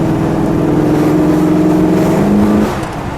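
A 1969 Dodge Charger Daytona with a 426 Hemi roars loud and close under acceleration. The engine holds a steady, throaty drone, its pitch climbs with a gear change, and then it eases off near the end.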